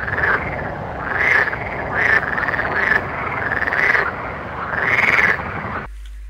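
A frog character in a video game croaks loudly and repeatedly, a steady run of rhythmic, buzzy calls in close succession that stops abruptly near the end.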